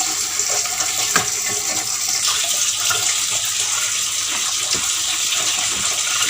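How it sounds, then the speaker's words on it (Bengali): Palm fruits being washed in a tub of water give continuous splashing and sloshing close by, with a few knocks as fruits are handled, no speech. "একদিকে না তাল ধুয়ে ধুয়ে রাখছে"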